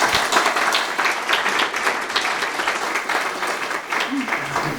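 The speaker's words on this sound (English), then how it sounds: "Round of applause, please." An awards ceremony audience applauds at the ALCS Annual Awards, a dense, steady wash of many hands clapping that holds for several seconds, with a voice faintly beneath.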